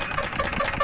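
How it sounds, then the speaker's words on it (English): Fan or hairdryer blowing across a limestone lithography stone to dry it, a steady close whirring drone with a faint rhythmic flutter and no talking. "now using the fan or a hairdryer to get this off."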